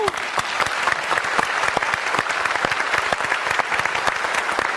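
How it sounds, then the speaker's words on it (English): A studio audience at a televised public debate program in Shanghai applauds steadily, dense rapid clapping from many hands held at an even level throughout. "Please give yourselves a quick round of applause."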